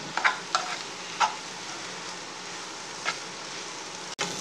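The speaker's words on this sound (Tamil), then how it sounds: "இதே மாதிரி கொஞ்சம் நேரம் ஃப்ரை பண்ணிக்கிட்டே இருங்க" Chilli chapathi pieces stir-fried in a pan, with a soft continuous sizzle broken by a few sharp clinks of a spatula against the pan.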